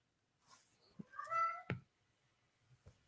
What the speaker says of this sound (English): Hear your cat.